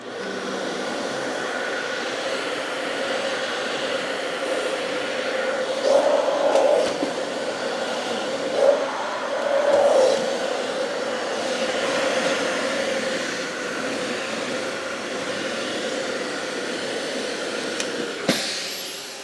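A Dyson Ball 2 vacuum cleaner runs steadily with a loud whooshing drone, with a few brief rattling bumps as cardboard crumbs are sucked up.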